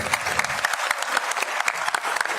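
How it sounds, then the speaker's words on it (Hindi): Hearty audience applause for a chairman at a women's honour ceremony in Haryana: a full crowd clapping continuously, with sharp dense claps and no talking over it. "जोरदार तालियां हमारे अध्यक्ष जी के लिए।"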